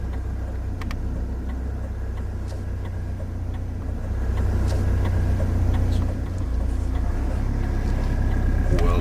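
A learner's car pulls away in first gear from a closed junction, its engine hum rising steadily and growing louder under faint cabin noise.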